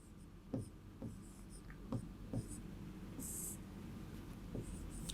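Chalk or marker writing on a board during a Class 12 surface chemistry lecture, a series of faint taps and short scratchy strokes at an uneven pace, quiet, in a room with low background hiss and no talking.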